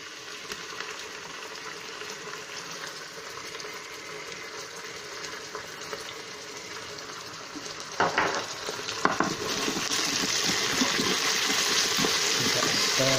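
Onions with salt and ginger-garlic paste fry in a pan for a stewed chicken curry base: a low, steady sizzle, then a burst of sharp spitting pops and stirring before a louder, fuller hiss takes over.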